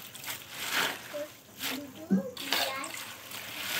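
Cabbage leaves rinsed under running water in a home kitchen, steady splashing and trickling with someone talking over it.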